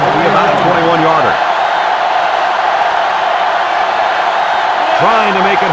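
Stadium crowd noise from the NCAA Football 07 video game forms a steady, loud roar throughout as a field goal is lined up, while a commentator talks over it.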